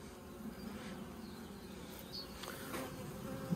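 Honey bees buzzing around a hive during a May colony split, a steady faint low hum from many insects with occasional louder passes nearby.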